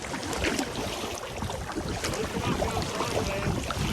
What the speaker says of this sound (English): we're back to big waves